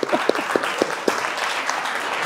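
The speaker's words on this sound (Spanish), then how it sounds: "Un aplauso para quien quiera salir. Un aplauso para ella, por favor." Audience applause for a volunteer at a therapy talk, with a few distinct nearby claps standing out over a steady crowd clapping that lasts a couple of seconds.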